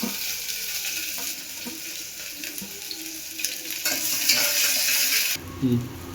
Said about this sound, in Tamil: இப்போ நம்ம வந்து கட் பண்ண ஆனியனை வந்து போட்டுறோம்.